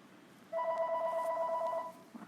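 Telephone ringing in a classroom during a math lesson, a steady electronic tone with clear harmonics sounding continuously for about one and a half seconds, moderately loud, with no talk over it.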